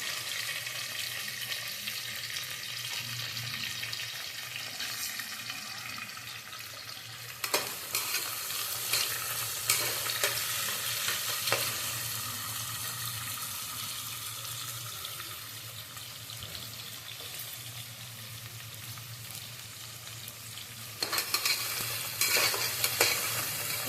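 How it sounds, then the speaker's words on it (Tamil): Onions with green chilli, curry leaves and coriander sautéing in a pan for tomato rice, a steady broadband sizzle throughout with occasional louder bursts of stirring, close and continuous with no voices. "வெங்காயம் நல்லா விதங்கி வரட்டும்"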